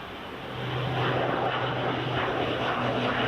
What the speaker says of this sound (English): PC-12 Oscar Juliet Foxtrot Alpha, which was 15 years old, and it's just departing now